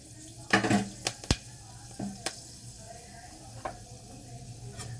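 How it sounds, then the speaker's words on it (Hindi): Fenugreek seeds dropped into very hot mustard oil give a brief crackling sizzle, followed by a few sharp pops and clinks, then a faint steady frying hiss in a quiet kitchen. "ये मेथी के दाने, ये जो सरसों का तेल मैंने अभी तेज गरम करके पका लिया है, इसमें डाल दिए हैं"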